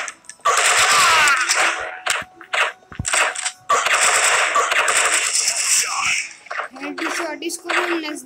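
Rapid gunfire in a Counter-Strike style shooter, sharp bursts and single shots close and loud, broken by short gaps and mixed with other game sounds while a player talks.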